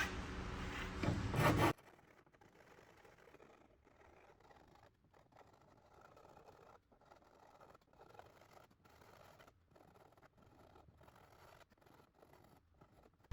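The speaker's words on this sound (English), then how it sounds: "taking this file and just cleaning out that crack so that I can put new fiberglass in it" Hand file rasping out a crack before fiberglass repair: after a short loud burst at the start, faint repeated scraping strokes continue steadily, close and quiet, with no speech.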